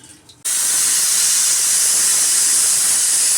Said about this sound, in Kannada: ನಾನು ಕುಕ್ಕರಲ್ಲಿ 1 ವಿಶಿಲ್ ಮಾಡ್ಕೊಳ್ತೀನಿ.